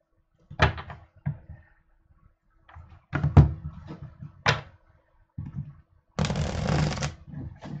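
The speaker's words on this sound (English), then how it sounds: "Okay, so now shuffling," Tarot cards being shuffled by hand in a quiet room: several short riffling bursts followed by a longer, steady shuffle near the microphone, with no talking over it.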